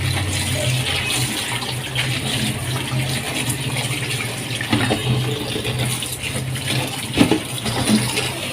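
Fenugreek leaves washed under running water in a kitchen, a loud continuous gush of tap water with splashing and a few clattering knocks toward the end.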